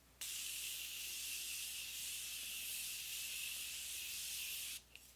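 Steady pressurized hiss of makeup setting spray from a drugstore bottle misted over the face, one continuous close burst of about four and a half seconds that cuts off sharply, with no talking.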